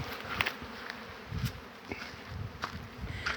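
A dense, continuous buzzing of many honeybees outdoors, with individual insects droning louder as they pass close by.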